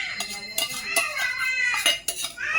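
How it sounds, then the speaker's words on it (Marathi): Gravy masala stirred into chicken fry in a pan: a spoon scraping and clinking against the metal pan in quick irregular strokes, close and fairly loud, with no talking. "हे बघा आपण आता छान पद्धतीने मिक्स करत आहोत."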